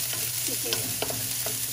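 Chicken frying in a pan with a steady crackling sizzle, punctuated by a few scraping stirs and clinks, close by with no talking.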